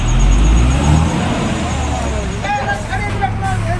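A loaded stone-carrying lorry at a head-on crash site on Budge Budge Trunk Road, Maheshtala, its heavy engine rumbling loudly and steadily while reversing, with brief high air-brake hisses and whines near the end.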